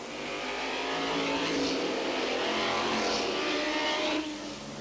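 McLaren number 20 race car with a 5.7-litre dry-sump engine of 600 horsepower roars loudly and steadily at close range at a 1990 Grand Prix de l'Age d'Or, then cuts off sharply near the end.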